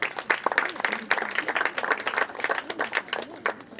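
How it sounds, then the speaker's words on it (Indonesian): At the closing service of an Easter youth camp, an audience bursts into loud, dense applause, the sharp claps crowding together continuously and staying strong throughout. "Mari kita beri tepuk tangan."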